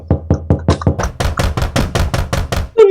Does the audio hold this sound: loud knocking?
yes